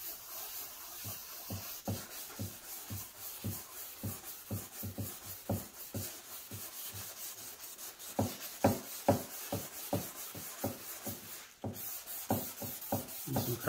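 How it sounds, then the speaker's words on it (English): Gel coat being wet-sanded with a Mr. Clean eraser block and distilled water in crosshatch strokes, producing close, rhythmic rubbing scrapes, about one or two per second, that grow slightly louder and quicker toward the end. "do some crosshatch sanding."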